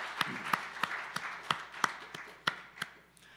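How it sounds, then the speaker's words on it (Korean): A church congregation gives a short round of applause, a handful of sharp claps spaced at an uneven beat and fairly faint, sounding like scattered hands in a quiet room rather than a full ovation. "우리 하나님 앞에 영광의 박수로 올려드리겠습니다"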